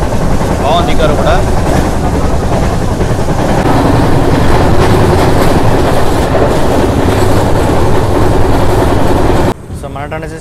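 Tatanagar to Ernakulam Express rounding a curve, a loud, steady rumble of wheels and carriages with rhythmic clatter throughout, cutting abruptly to a quieter interior tone near the end.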